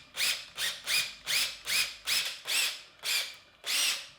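A power drill whirs in short, repeated bursts, about nine pulses in a steady rhythm, each rising and falling as it bores into a potato.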